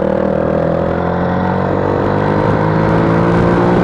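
A Honda CBF125 motorcycle with an aftermarket exhaust hums steadily and loudly at close range, a throaty exhaust note holding nearly constant pitch throughout with no voices.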